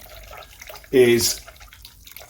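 Hot water at 70 °C pours into a bowl for stretching mozzarella curds, a short gurgling splash burst in the middle, with a voice speaking briefly around it in a home kitchen.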